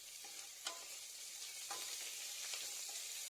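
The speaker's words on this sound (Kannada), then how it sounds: "ಕುಕ್ಕರ್ಗೆ ಹೆಚ್ಚಿಟ್ಟುಕೊಂಡ ಈರುಳ್ಳಿಯನ್ನ ಸೇರಿಸ್ಕೊಂಡು ಅದು ಕಂದು ಬಣ್ಣ ಬರೋವರೆಗೂ ಹುರಿದುಕೊಳ್ಬೇಕಾಗತ್ತೆ" Chopped onions frying with fenugreek leaves in a pressure cooker, a gentle steady sizzle broken by a few light stirring scrapes, close and quiet, ending abruptly.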